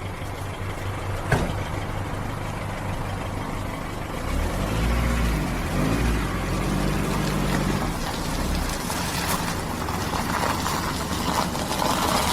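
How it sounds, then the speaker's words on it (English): Old car, left for forty years in a rotten wooden garage, running with its wheels spinning: a steady low engine rumble and mechanical whir throughout, swelling louder midway, with a sharp knock near the start. "3 wheels spinning."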